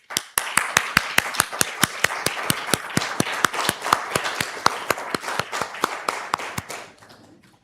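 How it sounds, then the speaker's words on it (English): Audience at a spiritual service applauding the practitioners, with one close, sharp clapper beating a fast, even rhythm over the softer clapping of the crowd before it tapers off. "We want to applaud you."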